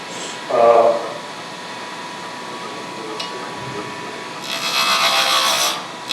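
A wood lathe spins steadily as a tool wastes wood on the turning blank, with a continuous rubbing, scraping cut and a brighter hiss near the end; a voice briefly speaks early on.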